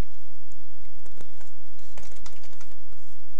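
Someone types a username on a computer keyboard, a quick, continuous run of close, crisp key clicks with no other sound.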